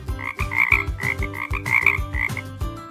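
Repeated frog croaks pulse in quick, regular bursts for a few seconds, close and moderately loud with no talking.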